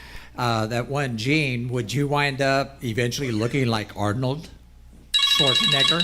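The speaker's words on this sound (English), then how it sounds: "and then my phone rang." A telephone rings with a loud, bright trilling burst near the end, right after a person speaks continuously over a call connection.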